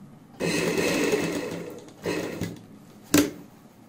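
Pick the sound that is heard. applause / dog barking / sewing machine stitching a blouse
sewing machine stitching a blouse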